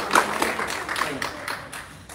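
A small group claps steadily and fairly quickly at a cumbiamba dance gathering, the even hand claps fairly close and moderately quiet, with little else audible.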